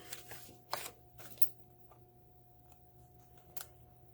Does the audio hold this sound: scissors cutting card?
yes